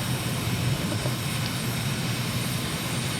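A simulated airplane engine drones steadily throughout a Microsoft Flight Simulator flight over Damascus, Syria: a constant, loud broadband roar with no talking.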